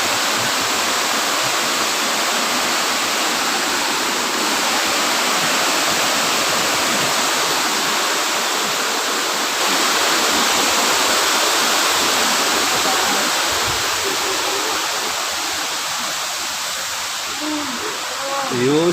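Water rushing hard over Wawa Dam in Rizal, a loud, dense, continuous roar that fills the whole stretch without letup.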